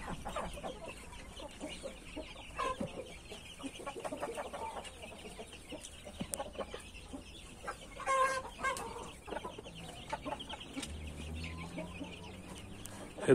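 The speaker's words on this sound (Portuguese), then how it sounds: "Abri aqui pra galinha sair, galinha preta, saiu e entrou a outra aí." Chickens cluck and chatter around a coop as a black hen is let out, with scattered near and far calls, a few louder clucks and some low rustling, no speech.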